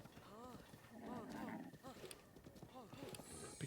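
Horse hooves clip-clopping at a gallop in Zelda: Breath of the Wild, a rhythmic run under steady talk and game music, with a brief whinny-like cue.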